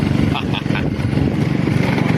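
A motorcycle engine hums steadily beneath two riders, with a big passenger perched on the back; the low drone runs continuously and people talk over it throughout.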